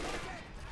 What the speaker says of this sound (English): It looks like Seeking is finally elected to start shooting now.